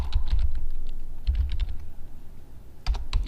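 Computer keyboard keys clatter in short clustered bursts with brief pauses, close and fairly loud, entering shortcut commands at a desk.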